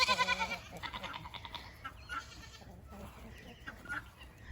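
Goats bleat repeatedly on a farm early in the morning, a cluster of calls at the start followed by scattered fainter bleats mixed with other farmyard animal noise, with a voice briefly audible.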